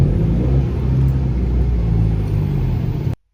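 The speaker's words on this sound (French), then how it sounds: "cette résonance là sur un diesel" A diesel car engine drones with a loud, steady, low resonance heard close inside or near the car, holding constant for about three seconds before cutting off abruptly into silence.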